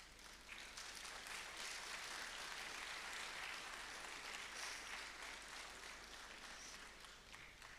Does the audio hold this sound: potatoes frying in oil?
no